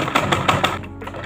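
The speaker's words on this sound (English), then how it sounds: "I'm going to now sew the rest of the armband to attach it to the sweater" Sewing machine stitching a knit armband onto a thrifted sweater, a fast run of repeated mechanical stitching bursts close by that eases off toward the end, with no talking.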